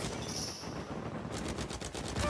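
Gunfire in the Uncharted 4 video game hitting the player: a dense rapid burst of automatic shots, loud and close, over a continuous noisy background of game action.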